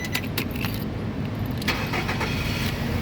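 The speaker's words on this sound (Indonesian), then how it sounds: "sekarang kita coba nyalakan mobil" A 2012 Nissan Serena 2.0 Highway Star automatic with about 95,000 km is started: keys jangle, then the engine cranks and catches around the midpoint and settles into a steady idle, close and fairly loud with no talking.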